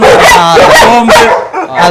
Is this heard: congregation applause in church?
no